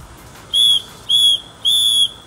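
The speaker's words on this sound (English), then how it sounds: "this whistle, now these are cheap freaking whistles, but holy moly, these things actually work pretty well. These are pretty freaking loud." A cheap plastic survival-kit whistle is blown three times in short, shrill, loud blasts with brief pauses between them, with no talking.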